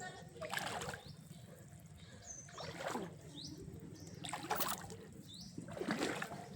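Someone wades slowly across water on an outing, with splashes and sloshing at regular steps that come about every two seconds, close by, over faint background noise.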